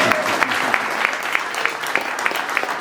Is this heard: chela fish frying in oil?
no